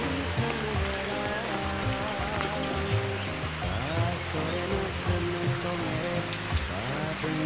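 Steady rain falls on surfaces in a Sundanese village setting, a dense continuous patter with a fairly even loudness throughout and no clear talk above it.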